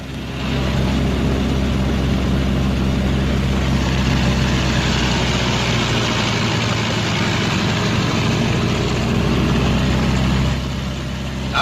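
A B-26 bomber's radial engine runs up on the ground, a loud steady low drone with a dense rumbling throb that holds without letup.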